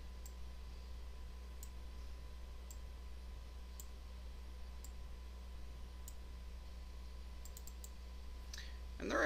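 A computer mouse clicks sharply every second or so in Adobe Illustrator over a steady low electrical hum, ending with a brief rustle.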